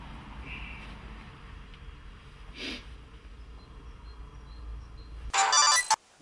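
A telephone rings once, loud and close, as a short electronic trill near the end after a quiet stretch with faint breathing and shuffling.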